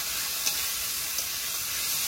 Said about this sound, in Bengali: কড়াইতে তেল দিয়ে দেবো, পটলটা দিয়ে দেবো।